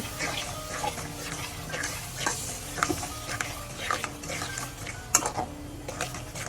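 Turmeric and chili powder are stirred in a pan for a Bengali flat bean and potato curry: repeated spoon scrapes and taps over a steady low sizzle, close and moderately loud, with no talking.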